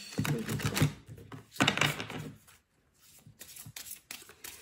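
Tarot cards get shuffled for a card reading in quick riffling bursts, close and crisp, with a brief pause before softer shuffling resumes.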